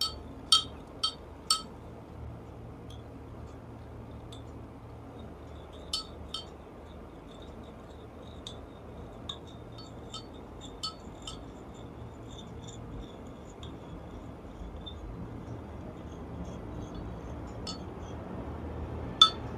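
A spoon clinks against a glass while a solution is stirred: several bright, quick taps near the start, then sparser light clinks over a quiet low hum, with one last tap at the end.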